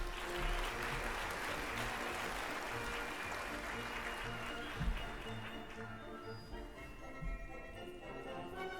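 Steady applause from an audience at a university graduation ceremony fills the whole stretch, a dense patter of many hands clapping that thins slightly toward the end.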